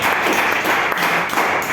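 Church congregation applauding during a Spanish-language service, a steady broadband wash of clapping filling the whole stretch at moderate loudness with no talk over it.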